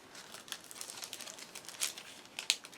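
Soft, close crinkling and rustling of a little paper envelope as small sewing supplies are slipped back inside, faint and continuous with a couple of sharper crackles.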